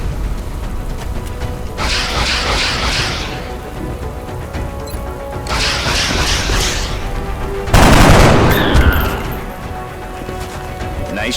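Weapon fire in the turn-based strategy game XCOM: Enemy Unknown, with two bursts of crackling shots followed by a louder booming blast and a fading rumble, heard alone over a low ambient game backdrop.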